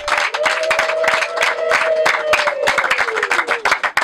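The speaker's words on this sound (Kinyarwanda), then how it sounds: "Komera Imana amashyi kuko twabonye abashyitsi" A church congregation claps together in praise of God to welcome guests, loud, fast and rhythmic close-up clapping running throughout, with a sustained sung or hummed tone underneath.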